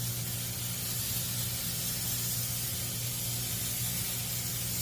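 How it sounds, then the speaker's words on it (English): Cooking spray hissing from a can onto raw meatballs on a bare baking tray, one continuous close, steady spray lasting about five seconds alone without talk. "I'm just gonna spray them with cooking spray."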